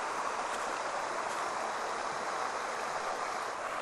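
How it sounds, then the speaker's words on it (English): Steady broadband rush of flowing water outdoors near a rice field at sunset, constant and moderately distant with no voices. "Got the sound of the water out here."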